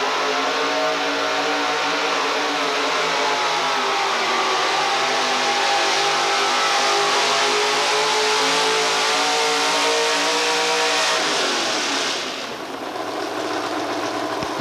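The Strike and Lightning modified truck races on a dirt track at Murray, Kentucky, in 1987. A loud, sustained engine roar holds steady for a long stretch and then drops in pitch as the truck backs off near the end, with no talk over it.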